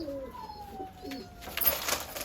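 Breeding pigeons of a Mangalore breed coo in low, rolling calls close by, with faint rustling and a brief flutter toward the end.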